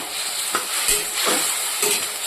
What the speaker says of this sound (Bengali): আলুটাকে লাল লাল করে ভেজে দিয়ে দিলাম লঙ্কা বাটা